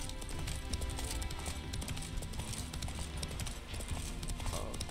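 Horse hooves clip-clop steadily in The Witcher 3, a quick continuous trotting rhythm close up, layered over a dense game soundscape with music and ambience.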